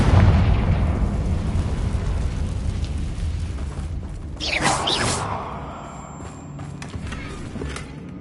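A Confringo blasting spell in a Harry Potter video game, a low rumbling boom with a hissing, crackling burst partway through, settling into quieter clatter and fizzing sparks.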